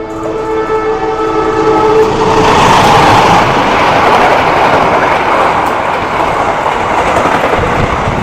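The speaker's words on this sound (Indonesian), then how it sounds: "ini dia kereta api Gaya Baru Malam Selatan melintas stasiun Krian" Gaya Baru Malam Selatan passenger train passing through Krian station in Indonesia, its horn blaring at the start before a loud, close rush of rolling wheels and clattering carriages carries on steadily.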